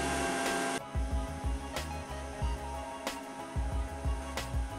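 A Mitochiba electric stand mixer beats steamed sponge cake batter at high speed, giving a close, continuous motor whir with a rhythmic low thumping of the beaters.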